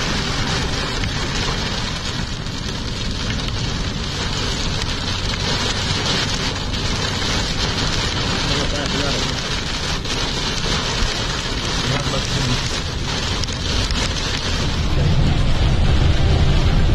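Heavy rain pours steadily in Ibri, Oman, a dense, loud, continuous roar of drops on surfaces with some wind, growing slightly stronger toward the end.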